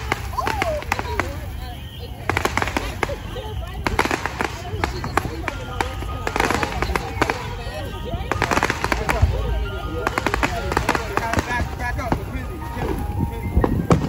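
Fireworks crackle and pop in quick, repeated bursts at a Fourth of July celebration in New York, with a crowd chattering and voices close by throughout.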